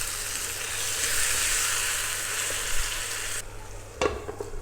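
Geleli kebab mixture with black pepper, salt and water sizzles loudly in a pan while being stirred, the hiss dropping sharply near the end before a spoon clink.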